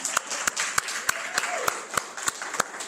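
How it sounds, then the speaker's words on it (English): A small audience at a gathering for classical composers claps in a brief round, with sharp individual claps landing at an even, fairly regular pace against a low murmur. "A little applause for that."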